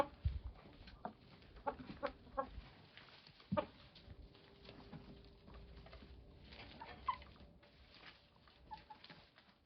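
Roosters and hens cluck and call softly at close range, with scattered pecking and rustling sounds in a quiet outdoor yard.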